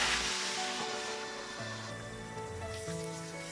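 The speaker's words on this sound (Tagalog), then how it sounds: "Prito natin both sides for at least 3 to 5 minutes." Pork ribs frying in hot oil in a pan: a steady sizzling hiss, bright and continuous, easing slightly over the few seconds under soft background music.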